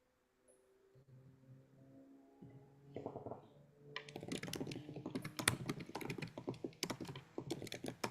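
Rapid, uneven keystrokes on a computer keyboard clatter close up, building from light tapping into a dense burst of clicks, with a faint tonal hum beneath the early part.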